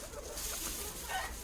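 A hen clucks softly in short bursts inside a duck shed against a faint, noisy background.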